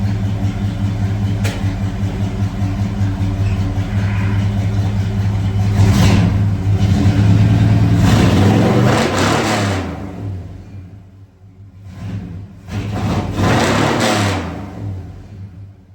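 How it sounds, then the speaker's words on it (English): A Ford Ranger engine idles with a steady low rumble, then revs up loudly a few times, dropping back between bursts before fading down. "I'll rev it up a couple times here and then we'll shut it down."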